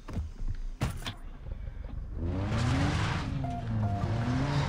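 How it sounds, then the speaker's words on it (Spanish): A car in the video game Far Cry 3 starts up and drives, its engine rising to a steady, loud whine with shifting pitch after a few brief clicks, with no talk over it. "Cogemos el coche."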